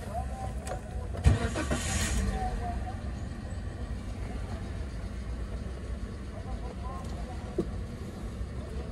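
A used auction car's engine, at 203,047 km on the odometer, cranks and catches, then settles into a steady idle, heard from close by.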